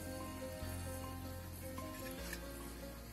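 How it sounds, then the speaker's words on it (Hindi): Laung lata sweets sizzle steadily in hot oil, a dense continuous frying hiss with low hum, no voices. "इसी तरीके से बाकी लवंग लता भी हम फ्राई कर लेंगे"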